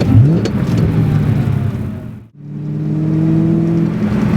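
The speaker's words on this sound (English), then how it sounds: "listen to that downshift. That clutch takes up so nicely." A Saleen S281 supercharged Mustang convertible on a winter back road, engine loud and close as it revs, dips briefly through a downshift, then pulls again with a rising whine and steady drone.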